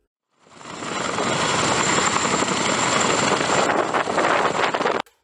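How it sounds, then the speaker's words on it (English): A Chinook heavy-lift helicopter roars up quickly, holding a loud, steady rotor and engine drone with wind buffeting before cutting off abruptly. "The Chinook is a heavy lift helicopter that is among the heaviest lifting Western helicopters."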